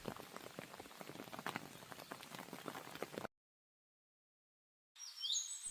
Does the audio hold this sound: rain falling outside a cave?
yes